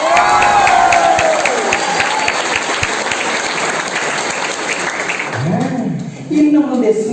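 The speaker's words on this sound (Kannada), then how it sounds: "ನಿಮ್ಮೆರಡು ಕೈಗಳ ಜೋಡಿಸಿ ಬರ್ಬೋದ ನನಗೊಂದು ಚಪ್ಪಾಳೆ" Loud applause and cheering from a large audience at a corporate boot camp event, a dense continuous roar of clapping that fades toward the end as a voice takes over.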